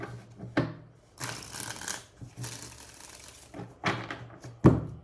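Tarot cards are shuffled in several bursts of riffling and sliding, the busy papery rustle starting and stopping, with a few soft knocks between bursts and no talking.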